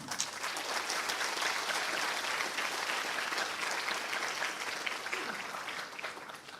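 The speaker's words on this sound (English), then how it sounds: "A big round of applause for our guest of honor, Florence Tan." Sustained applause from an audience greeting a guest of honor at a formal NASA-related talk on the Curiosity SAM instrument, steady and dense clapping throughout with no speech over it.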